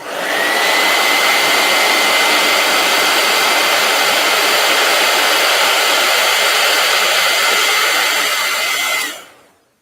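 A heat gun blows in a steady, loud, close rushing whine that holds unbroken for about nine seconds, then cuts off and fades quickly to silence.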